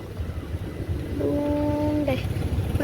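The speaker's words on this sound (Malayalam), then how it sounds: "അവിടെ ട്രെയിൻ ഇപ്പൊ ഉണ്ട്, കണ്ട ഒരു വെള്ള കളർ ട്രെയിൻ." Distant train rumbling past with a low, steady roar, and a brief two-tone horn or whistle sounding in the middle, fairly faint overall.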